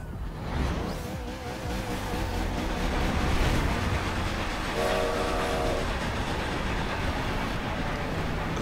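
A train in the Forza Horizon 2 racing game rumbles past with steady rolling noise, and a short horn blast sounds midway over the continuous din.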